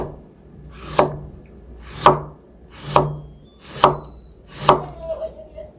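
A knife cuts thin julienne strips of carrot on a cutting board for white cabbage kimchi, five crisp, evenly spaced chops about a second apart, close and clear with no talking.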